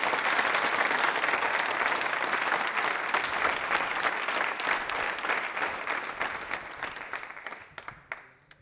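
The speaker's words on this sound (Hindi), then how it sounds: "बजा सकते हैं तालियां।" Audience applause at a university quiz show, a dense burst of many hands clapping that holds steady and then thins out and fades toward the end.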